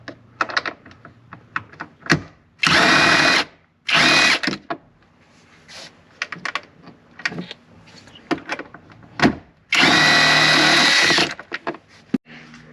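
A power drill spins off a 10mm bolt on a 2014-2019 Toyota Highlander during trailer hitch wiring work, giving three loud separate whirring bursts between quieter clicks and handling noises, with no talking.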